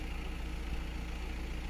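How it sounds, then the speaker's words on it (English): A 2017 Audi A4 B9 with DSG idles steadily during an oil change, giving a constant low, rhythmic engine hum with no speech. "So the engine is working"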